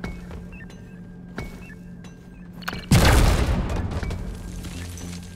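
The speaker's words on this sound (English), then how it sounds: "detonating some explosives to cut down on the pickaxe time" Explosives detonate in Deep Rock Galactic, a loud sudden blast followed by a long rumbling roar and debris rattle, after a few quieter earlier thumps and clinks while digging around gold.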